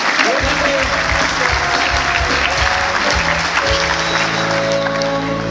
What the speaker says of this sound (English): Everybody who is sitting is about to give the standers a round of applause.